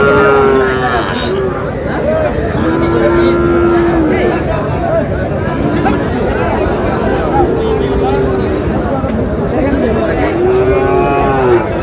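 Cattle, including Sahiwal bulls and calves, moo repeatedly at a livestock market in Moulvibazar, Bangladesh, loud and close, with long low calls over a busy crowd of chattering voices.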